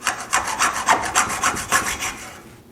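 A hacksaw cuts a zinc came strip for a leaded glass cabinet panel in a jig, with about nine rhythmic back-and-forth strokes close by, loud and rasping, before it stops.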